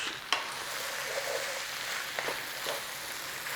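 Tomatoes frying in a pan with browned sausage meat give a steady, soft sizzle, broken by a sharp clack near the start and a few light scrapes later on.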